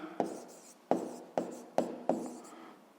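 A pen writes an answer on paper in a math exercise, giving five sharp, regular scratchy strokes close up, with no voice over them.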